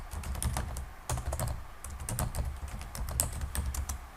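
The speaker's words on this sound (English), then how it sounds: "I can type in the email address" Rapid, uneven clicking of keys on a computer keyboard while an email address is entered, close and steady throughout with no voices.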